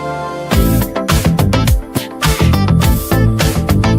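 A pre-chorus leading into a chorus, built from synth and drums in SUNO Studio: loud, dense music with punchy drum hits, a pulsing bass line and layered synth chords, with no voices.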